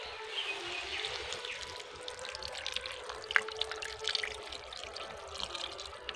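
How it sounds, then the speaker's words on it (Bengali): Water is poured into an okra and potato curry cooking in a pan, a soft trickling splash that runs on and off at low volume, with faint drips and no voices. "এবার আমি অল্প করে জল দিয়ে দেবো ঢেঁড়স আর আলু"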